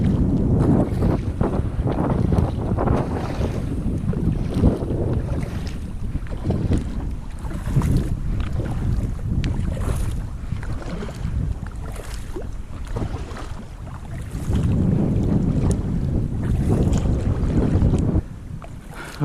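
Steady wind rushes and buffets over the microphone while paddling a Pungo 140 kayak into a quartering headwind, with broadband gusts swelling and easing over low water and hull noise throughout.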